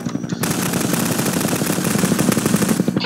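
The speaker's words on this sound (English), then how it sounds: "Oh no, they're shooting me." Rapid, loud bursts of machine-gun fire from military NPCs in the GMod game, continuous automatic shots rattling close for the whole stretch.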